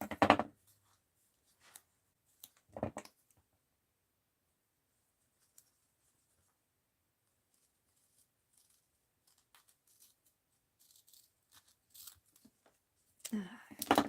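Scissors snip and cut through tape in a quiet craft session for an art journal, a few crisp cuts early on, then sparse faint rustles, with soft speech near the end.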